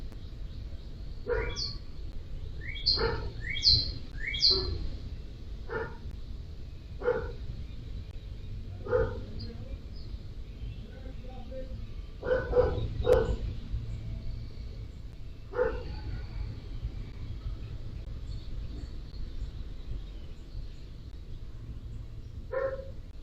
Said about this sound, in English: we hear the dog barking pretty much the entire time